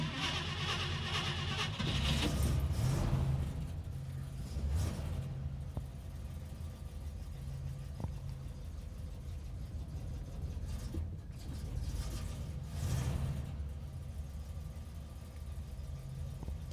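A 1964 AMC Rambler Classic engine is given gas after sitting several days, producing a low, rumbling drone with a few swells in intensity over a steady idle, moderately quiet and alone.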